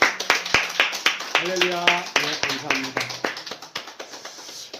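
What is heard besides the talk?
church congregation clapping in praise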